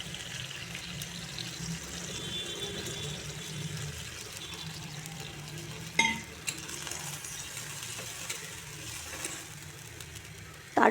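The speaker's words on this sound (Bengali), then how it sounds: "এতে গরম জল দিয়ে দিচ্ছি।" Hot water poured into a pan of eggplant and fish curry, a gentle continuous splash and bubbling over the sizzle, with a couple of sharp clanks near the middle and end.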